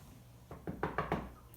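Four quick knocks on a door, close and fairly soft, evenly spaced in a short burst with no talking.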